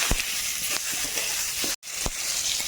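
Olives frying in a pan of hot oil with mustard seeds, radhuni, turmeric and salt, a dense continuous sizzle and hiss with a few sharp spatters, close up and steady, with one brief break.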